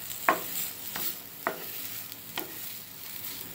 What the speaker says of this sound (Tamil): அந்த ஸ்டவ் சூட்லேயே அப்படியே லைட்டாக கிளறி விடுங்க